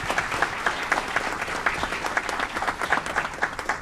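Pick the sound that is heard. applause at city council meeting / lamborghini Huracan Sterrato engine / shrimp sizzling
applause at city council meeting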